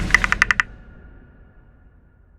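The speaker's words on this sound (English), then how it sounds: "I start to notice a familiar clicking sound at my window." A quick burst of about six sharp clicks in a rapid rhythm, close and crisp, then fading into quiet low hum.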